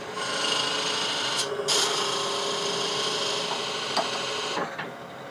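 A lathe cuts into a spinning wooden top, giving a steady, close scraping rasp that holds for several seconds, with a short gap and a couple of brief catches toward the end.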